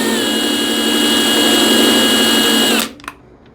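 Power drill running steadily as it turns the flex override shaft of an Accu-Slide RV slide-out room gearbox, a loud continuous high whine that cuts off abruptly near the end, followed by a brief clunk.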